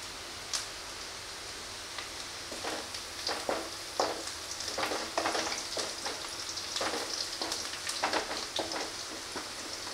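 Two strands of curry leaves hit hot tempering oil with onion that has browned and crisped, and a steady, close sizzle hisses throughout, with bursts of sharper crackling and spitting popping up over it.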